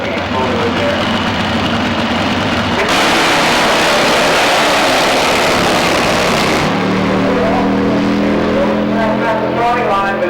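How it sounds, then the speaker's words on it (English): Drag racing bike with a 137 cubic inch Ford cam motor, a loud continuous engine roar that shifts in pitch partway through and settles into a steady rumbling idle, with a busy crowd or announcer noise mixed in. "Now he's got 137 cubic inch Ford cam motor in there."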